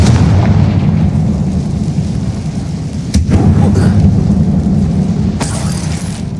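A Confringo blasting spell explodes in a mine in the game Hogwarts Legacy, giving a loud, deep rumbling boom with sharp cracks partway through and a sustained low roar continuing afterward, with no speech.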